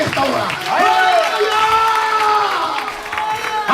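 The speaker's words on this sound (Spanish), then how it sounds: "Fuerte ese aplauso y se pone de pie en esta hora." Congregation at an evangelical church service cheering and applauding, loud crowd noise mixed with shouts and a sustained voice over the clapping throughout.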